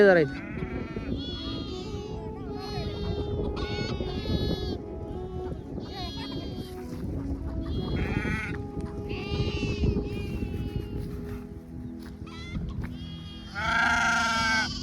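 Goats bleat again and again, several close-up calls overlapping one another above a low, steady background rumble.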